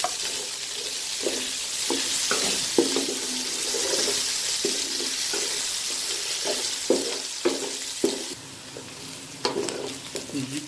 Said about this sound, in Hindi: इसमें हम प्याज डाल देंगे।